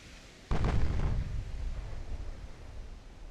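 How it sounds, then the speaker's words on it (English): Ammunition detonation on a warship in a naval battle game, a single sudden heavy boom followed by a long, gradually fading rumble. "Ammo detonation over there."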